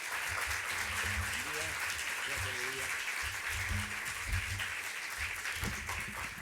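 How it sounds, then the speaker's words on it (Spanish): A crowd at a lecture applauds steadily to welcome a speaker, dense clapping throughout, while a voice speaks faintly underneath at times. "Un aplauso para recibir al profesor"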